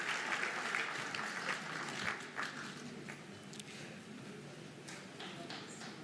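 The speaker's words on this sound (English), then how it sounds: "Let's give her a big round of applause." Applause from a seated ceremony audience at a government performance contracts signing, a sustained wash of many hands clapping at moderate distance, easing slightly toward the end.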